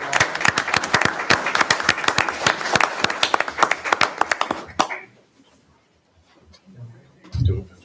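Audience applause at a regular meeting for Tolly, a regional literacy fair winner: a modest crowd claps steadily for about five seconds, then it stops abruptly, leaving near silence and a brief low voice or shuffle near the end.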